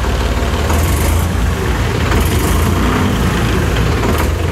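Tractor engine idling with DCPC control levers, a steady loud low rumble with a broad mechanical clatter, continuous and close throughout.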